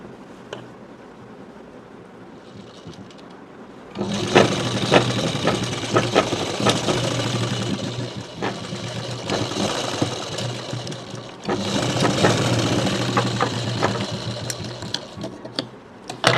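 An electric sewing machine stitches the shoulder seam of a short kurti, starting after a quiet pause into a steady, close, loud whirring run that briefly eases and then resumes, with no voices.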